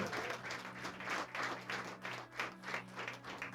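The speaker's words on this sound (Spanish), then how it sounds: "Si le vas a dar un aplauso al Señor, dáselo fuertemente." A church congregation claps steadily in rolling waves, moderately distant, with no talking over it.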